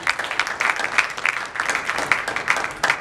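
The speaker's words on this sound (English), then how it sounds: "So we give them a round of applause." Steady audience applause from a seated crowd at a leadership talk, dense clapping that holds at full strength for about three seconds with no voices over it.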